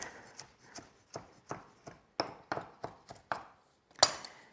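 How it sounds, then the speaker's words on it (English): Knife roughly chopping a handful of mint and Italian parsley on a board: about a dozen crisp, evenly spaced chops close up, with no voice. "Just chop it up relatively roughly"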